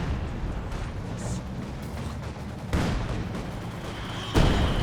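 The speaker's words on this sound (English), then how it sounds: "that is a heavy mortar from Slafter. This barrage as well" Heavy mortar barrage in Company of Heroes 2, with two loud shell impacts landing seconds apart over a continuous rumbling battlefield backdrop.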